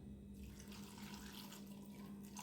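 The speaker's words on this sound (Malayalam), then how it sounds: "ഇനി കഷ്ണം വേവാൻ ആവശ്യമുള്ള വെള്ളം ഒഴിച്ചു കൊടുക്കുക" Water pours in a steady, continuous stream, splashing softly into a cooking pot of vegetable pieces for Kerala erissery at close range.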